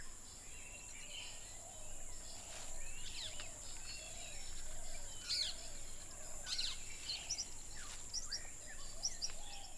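Birds of Sri Lanka's rainforest give scattered short chirps and whistles at moderate distance, repeating irregularly over a steady background drone of insects.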